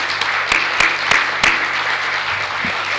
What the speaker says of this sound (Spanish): me gustaría que le recibiéramos con un aplauso